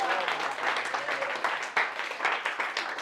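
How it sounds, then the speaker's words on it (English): A small audience at a birthday party magic show claps and applauds steadily for about three seconds, the claps close and lively with a few voices mixed in. "Round of applause for them."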